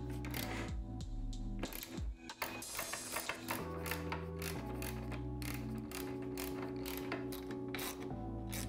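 A ratchet tightening the hardware on Tusk pannier racks mounted to a Honda Transalp XL750 motorcycle, a fast continuous run of close metallic clicking with steady mechanical tones beneath, no talking.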